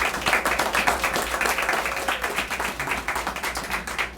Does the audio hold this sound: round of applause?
yes